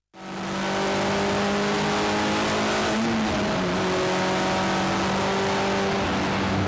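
A sports car laps the Grozny racetrack on a race-taxi ride, its engine droning loud and sustained with shifting revs and a brief dip in pitch midway, no one talking.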